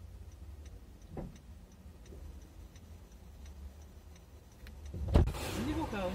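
A parked car's warning chime ticks steadily in a regular rhythm because the headlights were left on, faint under casual conversation, followed by a louder clunk and rustle near the end.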